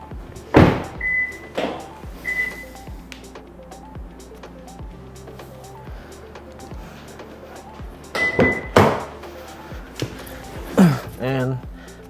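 Doors of a Honda Civic hatchback shut, with a few dull thuds and clicks spaced across a quiet interior, plus some faint beeps and a low steady hum between them.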